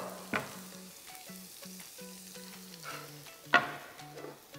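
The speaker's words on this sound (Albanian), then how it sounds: "Shtojmë qepën." Onion fries in butter for mushroom risotto, a faint soft sizzle with a couple of sharp pan clinks, quiet and close, under light background music.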